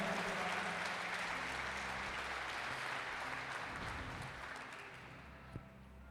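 Applause rises from a church congregation during a Portuguese-language sermon, a broad sustained clatter of many hands that slowly thins and softens toward the end, with a low tonal hum underneath.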